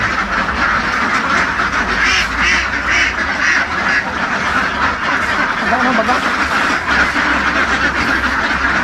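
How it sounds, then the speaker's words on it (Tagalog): Ducks on a duck farm quacking continuously, a dense chorus of overlapping calls close by, with a person talking over the flock. "Ayan, tingin muna tayo dito sa kanilang mga itik"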